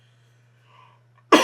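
After a near-silent stretch with a faint hum, a single sharp cough bursts out close by at the very end.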